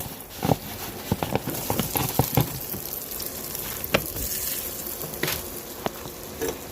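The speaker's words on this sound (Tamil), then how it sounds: "இந்த அன்னாசி பழம் ரவா கூடயே நல்லா ஃப்ரை பண்ணி விடணும்." Pineapple pieces and semolina (rava) frying in ghee in a pan, a steady close sizzle broken by sharp clicks and scrapes of a spoon stirring the mixture.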